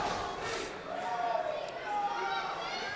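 Wrestling fans at an ECPW Metal Mayham 2023 event chant for Moondog Dylan Davis, a steady, moderately loud crowd roar filling the arena with faint voices threaded through it.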